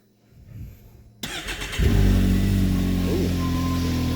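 A Can-Am Maverick X3 side-by-side engine starts after an ECU tune flash: quiet clicks, a cranking burst, then the engine catches and settles into a loud, steady, smooth idle close by.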